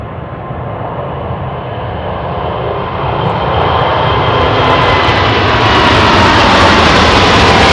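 An Atlas Air jet airliner takes off at Anchorage, its engines building from a steady roar into a louder, broadband rumble close by.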